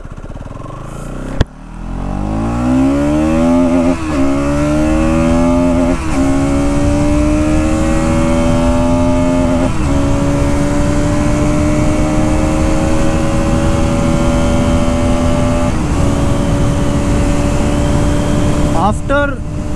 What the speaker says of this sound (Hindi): एग्जॉस्ट साउंड तो बहुत अच्छा है, चलाते इसको.